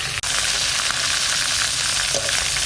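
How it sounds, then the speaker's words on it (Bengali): Cumin seeds and bay leaves hit hot oil left from frying a fish head, giving a loud, steady, close sizzle with one brief dip near the start and no talking. "এই তেলের মধ্যে একটু সাইড করে নিয়ে এর মধ্যে আমি জিরে আর তেজপাতা দিয়ে দিলাম।"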